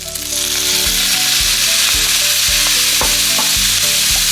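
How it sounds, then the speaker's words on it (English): Crispy pork belly stir-fried with garlic in a hot pan gives a loud, steady sizzle, with stirring scrapes and clacks recurring about every half second and no talking. "Fry it with the garlic, and then I'm gonna put"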